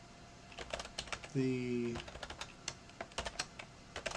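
Soft, rapid clicks from a computer keyboard while writing code for a programming lesson, with a brief tonal hum partway through. The typing sits close but quiet, with a faint word spoken.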